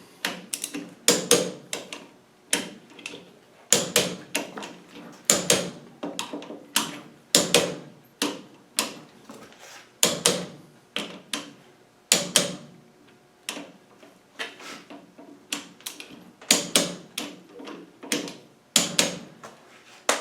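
A torque wrench clicks repeatedly while differential bolts of an LT230 transfer box are being rechecked, sharp ratcheting clicks and single snaps arriving in irregular bursts over about twenty seconds, close and fairly quiet, with no voices.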